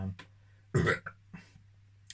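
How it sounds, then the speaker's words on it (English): A short, soft burp close to the microphone, with quiet breathy sounds and a low steady hum before and after. "nice burp."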